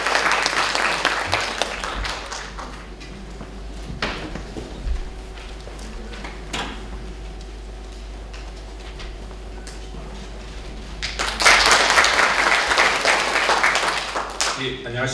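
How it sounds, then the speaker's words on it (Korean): A live audience applauds as a speaker is welcomed to the stage at a regional cancer-statistics presentation, with broadband clapping swelling near and loud at the start, thinning through the middle, then rising again strongly toward the end. "박수 부탁드리겠습니다."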